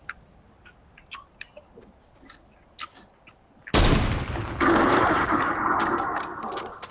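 A sniper rifle fires in Fortnite with one sudden loud blast, followed by sustained gunfire and crackling action after a stretch of faint, sparse ticks and clicks.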